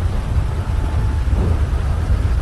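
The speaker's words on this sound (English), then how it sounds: "Very, very loud thunderstorms." Loud thunderstorm outdoors, heavy rain pouring with a dense low rumble of thunder throughout, steady and close.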